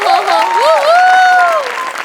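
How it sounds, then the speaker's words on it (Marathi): An audience applauds at a Marathi comedy sketch show, a loud continuous burst of clapping mixed with cheering voices that swells and then fades slightly. "त्याचं खूप कौतुक, त्याच्यासाठी खूप टाळ्या"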